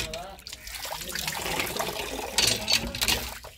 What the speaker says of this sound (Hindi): ये नलके मिठा पानी